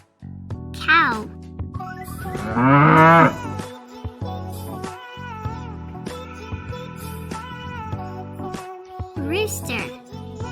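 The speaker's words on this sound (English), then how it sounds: "Cow." A cow moos loudly in a drawn-out, wavering call on a farm animal sound track, standing out over steady background music with a few other brief animal-like calls around it.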